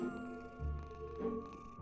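A short, quiet cat meow from the video game Dark Riddle, with a soft ringing tone behind it.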